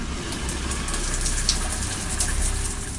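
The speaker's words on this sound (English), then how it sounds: "As she stood under the shower" Shower water running steadily at close range, a continuous broadband hiss and patter with no voices over it.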